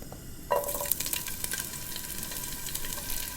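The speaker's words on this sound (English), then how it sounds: "you want to start off with stir frying the vegetables" Vegetables, including bell peppers and asparagus, sizzle and crackle in a hot pan, with a loud hiss starting half a second in and scraping stir sounds continuing steadily throughout.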